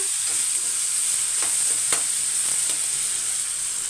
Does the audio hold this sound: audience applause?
no